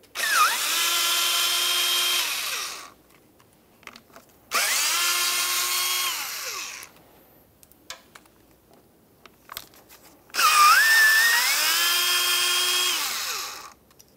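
Three loud, close bursts of a power drill removing T27 Torx screws from the front locking hub of a Ford F-350, each whirring up to speed, holding, then winding down, separated by short pauses.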